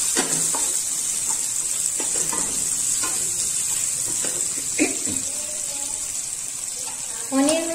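A few raisins sizzle in hot oil in a pan for a green chickpea, spinach and paneer pulao, with steady frying hiss throughout and occasional stirring scrapes nearby.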